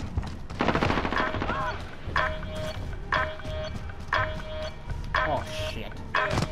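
Bursts of automatic gunfire in a Call of Duty: Modern Warfare multiplayer match, several rattling volleys about a second apart, loud and near, with repeated tonal beeps between them.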